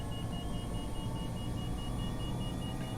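A repeated electronic beeping from a low RPM alarm in Microsoft Flight Simulator, steady and fairly faint over a constant engine rumble and hiss throughout, with no talking.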